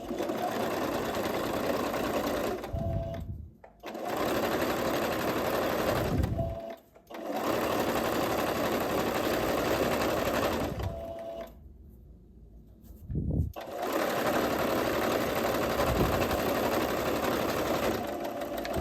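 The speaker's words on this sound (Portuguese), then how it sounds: "Vamos descer uma costura reta agora aqui." Sewing machine stitching a straight seam on a dress, running in long steady whirring bursts. Short pauses fall between the runs, and a longer stop comes near the end.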